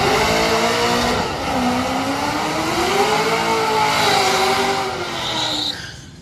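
A Chevrolet SS, an Australian-built rebadged car, launches at a drag strip, its engine note climbing and dipping through gear changes in a loud, sustained roar with tire noise, then fading slightly at the end.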